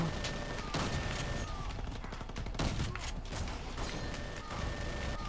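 Minigun in R.I.P.D. The Game roars in a dense, continuous burst of rapid gunfire that runs the whole stretch, loud and close with heavy booming impacts layered over the top.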